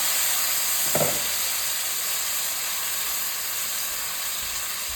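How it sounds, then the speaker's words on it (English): Chicken pieces sizzle in hot oil for a Jamaican curry, a steady close hiss throughout with a brief clink near the start, no talking. "I am going to go ahead and put in my chicken pieces in this oil"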